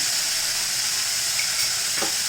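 Tomato and turmeric frying in a hot pan. A steady, bright sizzle runs through the whole short stretch, with one brief scrape near the end and no talking.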